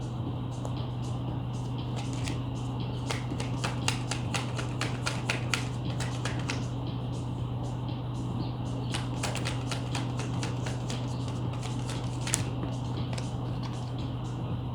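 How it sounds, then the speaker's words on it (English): Tarot cards are shuffled close by, giving a steady stream of soft, rapid riffling taps and flicks over a low background hum. "I'm going to give it one last shuffle and then otherwise I'll pull it out."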